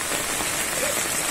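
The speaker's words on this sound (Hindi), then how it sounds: "यहाँ पे बारिश हो रहा है" Rain falls on an outdoor guppy breeding pond as a dense, steady hiss of drops, loud and close throughout.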